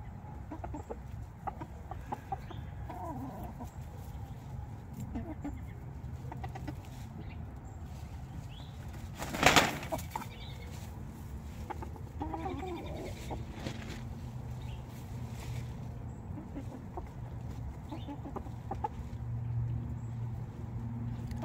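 Chickens cluck softly and intermittently in their coop, with a brief louder flutter or squawk partway through over a low background hum.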